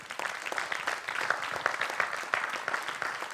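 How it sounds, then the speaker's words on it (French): Audience at a French-African forum applauding young leaders, a dense, even patter of many hands clapping at moderate distance, steady throughout and without talk. "Je vous demande à tous de les applaudir."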